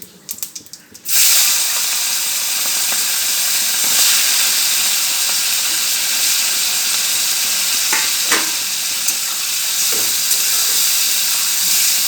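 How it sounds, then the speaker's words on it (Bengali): Prawns fry in a wok tempered with cumin, a loud sudden burst of sizzling after a quiet start that settles into a steady, close crackling hiss with a few stir scrapes. "কড়াতে জিরে ফোড়ন দিয়ে চিংড়িগুলো"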